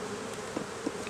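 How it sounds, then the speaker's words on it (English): Honey bees drone on a hive frame in a steady, close, dense buzz with a few brief louder passes, and no voices. "look at all those bees working on that"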